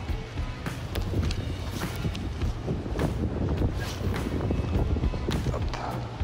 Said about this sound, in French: là, il y a quand même pas mal de vent